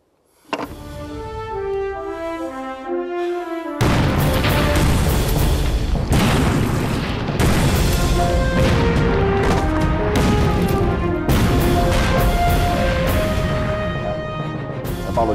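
Heavy booms of artillery fire rumble through a battle scene in a Chinese war film about fighting the Japanese, loud and dense. A stirring orchestral score plays under repeated explosive impacts.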